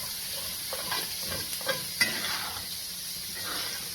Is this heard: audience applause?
no